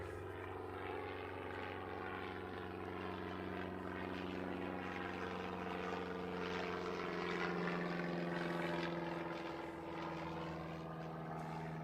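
A black-liveried aircraft arriving at Christchurch Airport, heard as a faint, steady engine drone with a droning low hum that swells gently in the middle and eases off, without talk.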